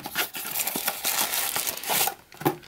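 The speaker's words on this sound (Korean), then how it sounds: "보시면 한번 뜯어보도록 하겠습니다." Plastic packaging wrapped around a mini tripod is torn and crinkled open close up. The crackling and ripping runs steadily for about three seconds, with brief sharper tears near the end.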